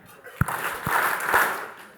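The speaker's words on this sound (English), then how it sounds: "We need to do 3 claps for everyone who contributed to our amazing goodie bag swag." An awards-ceremony audience claps three times in unison, three sharp distinct claps followed by a brief murmur of crowd noise and light scattered applause.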